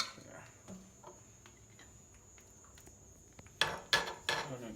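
Wooden or metal cooking spoon set down on a stovetop while preparing oven-baked Jamaican jerk chicken, giving a few sharp close clinks and taps after a quiet stretch of faint kitchen clatter.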